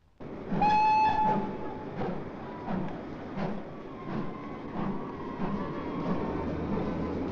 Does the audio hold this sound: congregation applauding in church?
no